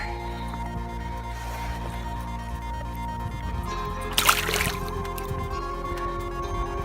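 A small pike released back into a hard-fished water makes a brief, close splash and swirl that stands out against a steady low outdoor hum with no talking.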